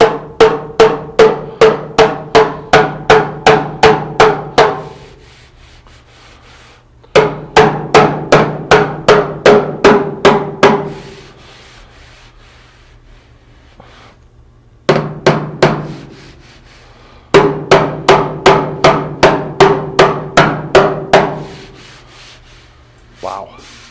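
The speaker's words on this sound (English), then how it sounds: "You never use these hammers for anything other than sheet metal work." A bodywork hammer gently tapping car sheet metal during a cheap home paint job, heard as four bursts of rapid, evenly spaced ringing taps, about ten per burst, loud and close, separated by short quiet pauses, with no talking.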